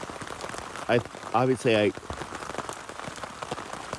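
Steady rain patters on a camping tarp during an overnight thunderstorm, a dense even hiss throughout, with a few spoken words briefly heard over it.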